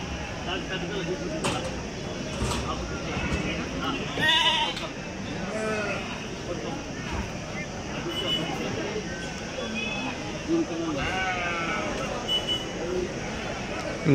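Sheep bleat repeatedly amid a busy, noisy crowd at a weekly livestock market in Kadiri, India, with people talking throughout and occasional sharper cries rising over the din.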